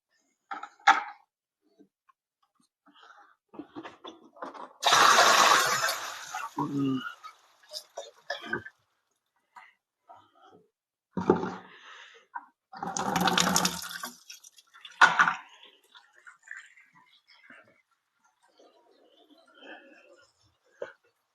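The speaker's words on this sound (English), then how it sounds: "Need to put some water in the airlock." Water is poured into the airlock of a fermenter during home brewing. There are two short, hissing pours with faint drips between them, and a person talks quietly in the pauses.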